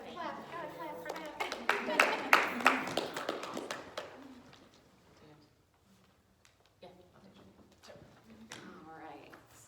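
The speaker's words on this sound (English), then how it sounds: "Gotta clap for that." A small group claps in a burst of brisk, uneven hand claps that swell and then die away after a few seconds, followed by quieter room noise and scattered voices.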